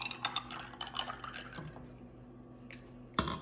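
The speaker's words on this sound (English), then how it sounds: "Pour me some juice." Juice being poured into a glass, with a short run of trickling and splashing liquid close by, easing off before a sharp knock at the end.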